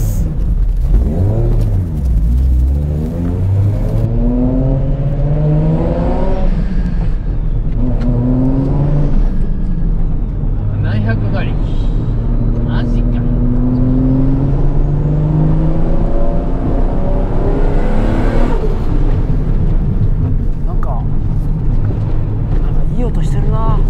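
A 700-horsepower Toyota 80-series Supra with a custom road-legal aftermarket muffler revs and accelerates hard, its engine note climbing and falling through repeated pulls, loud and close, with people talking over it.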